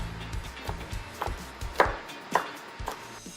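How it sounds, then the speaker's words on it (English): A knife slices and dices vegetables on a cutting board in an unhurried series of soft, separate chops, close and clear with no talk. "There's a bit of slicing and dicing you gotta do"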